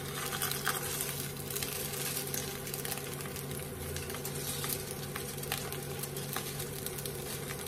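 Fish frying in a pan with a steady, close sizzle of crackling oil, small pops and spatters scattered through a continuous hiss, with no voices.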